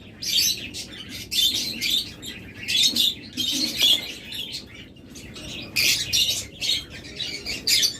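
Caged mynas, parrots, lovebirds, budgerigars and cockatiels in a bird shop chirp and squawk in dense overlapping bursts, loud and close, with no talk.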